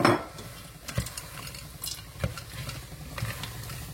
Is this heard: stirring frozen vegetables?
yes